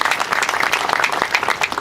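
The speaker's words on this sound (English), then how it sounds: "Please give them another round of applause." Audience applause at an outdoor trail groundbreaking ceremony, steady dense clapping from a crowd sustained throughout, fairly loud and close.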